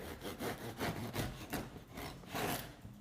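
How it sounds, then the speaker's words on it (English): A knife saws through a crusty loaf of Tuscan bread in several quiet, rasping back-and-forth strokes, close up and with nobody speaking. "let's just cut this bread open"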